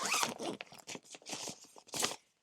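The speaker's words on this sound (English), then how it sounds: "how they come in this little container, and it's a zipper" Zipper on a small crochet blanket kit container being pulled open in several quick rasping bursts, close and fairly loud, with short pauses between pulls.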